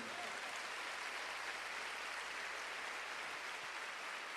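A church congregation applauds in a steady, even wash of clapping that holds at the same level from start to finish, heard faint and distant.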